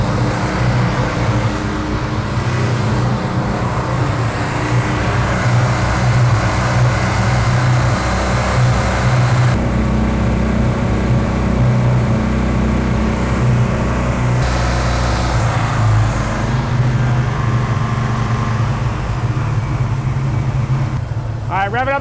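Affordable muscle car engine revving loudly and continuously nearby, a heavy rumbling drone that rises and eases in pitch, with people talking over it.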